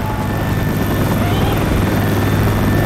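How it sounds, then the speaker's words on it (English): The rescue helicopter arrives in the video game Left 4 Dead 2, a loud, dense rotor roar and whine that fills the scene and stays steady throughout, with players' voices mixed beneath it. "The chopper's coming!"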